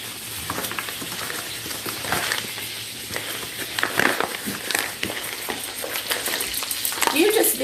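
Onion and bacon being stirred in a frying pan, with steady sizzling and frying crackle under scraping utensil strokes, close and continuous, with occasional speech nearby.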